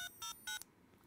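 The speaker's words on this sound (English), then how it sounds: "what I have there is a recording, a sampled recording of a phone number" A sampled recording of phone-number DTMF dialing tones played through a small plug-and-play speaker amplifier: three short, evenly spaced beeps, fairly quiet and close, followed by a faint hiss.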